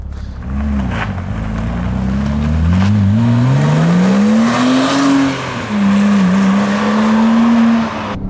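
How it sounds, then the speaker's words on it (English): A Porsche Boxster engine revs and climbs through gears from inside the car, loud and close, pitch rising with each pull, dipping at shifts, then settling into a steady drone. "let's go for a ride"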